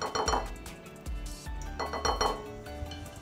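A utensil clinks and taps against a bowl as gelatin is stirred into a dessert preparation for a Halloween eyeball treat, with a close, irregular series of light knocks and scrapes and no talking.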